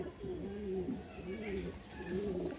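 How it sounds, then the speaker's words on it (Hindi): A male teddy pigeon in a home loft in Lucknow coos in soft, low, repeated rolling phrases against steady background noise, fairly close by. "ये देखिए, ये कबूतर है"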